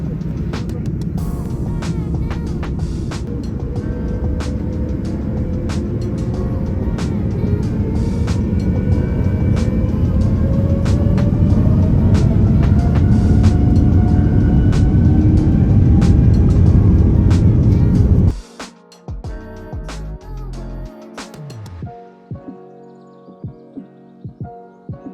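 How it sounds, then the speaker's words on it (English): An ITA Airways A330neo airliner taxiing out to the runway at JFK, its steady engine roar building gradually over about eighteen seconds before cutting to quieter clattering and rattling sounds. "it was time to start our long taxi out to the runway here at JFK."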